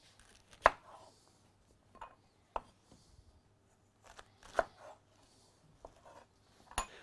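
A knife cuts onions and endives in half on a board, with quiet separated chops spaced a second or two apart, each sharp and brief against near silence.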